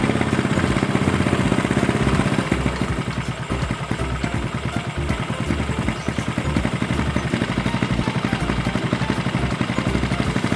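A Harley-Davidson Sportster motorcycle engine idles steadily during carburetor tuning, its loud, close, uneven lopey chug pulsing continuously throughout with a mechanical clatter and no voices.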